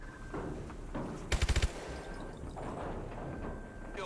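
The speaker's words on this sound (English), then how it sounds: "grab and man the guns to shoot down the cargo ships" Mounted gun fire in Call of Duty: Advanced Warfare, one short burst of about five rapid, punchy shots over a steady game background hum and rumble.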